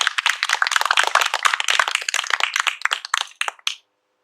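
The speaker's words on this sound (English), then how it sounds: "Let's have another round of applause for Priscilla Turner Spada." Audience at a poetry reading applauding, a short round of brisk clapping from a modest crowd that tapers off into a few scattered claps and stops.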